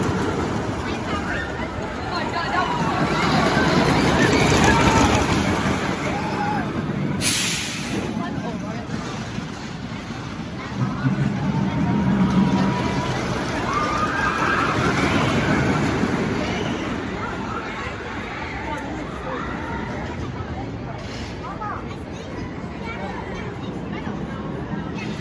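Viper, a wooden roller coaster at Six Flags Great America, roaring along its track in a continuous rumbling, rattling rush that swells and fades, with wind noise and riders' voices mixed in.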